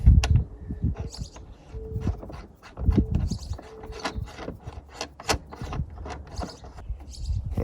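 Jeep JL side mirror arm tightened by hand with a flag nut: a run of sharp metallic clicks and ratcheting ticks at an uneven pace, close and fairly loud over a low rumble, with no talk.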